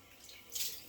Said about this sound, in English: So let me turn on the cold water.